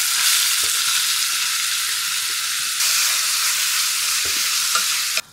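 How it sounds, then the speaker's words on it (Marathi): Finely chopped onion frying in three tablespoons of hot oil in a kadhai, a loud continuous sizzle with occasional stirring clicks, close and alone. "कांदा इथे सोनेरी रंगावर आपण परतून घेऊयात."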